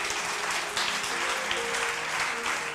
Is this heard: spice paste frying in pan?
no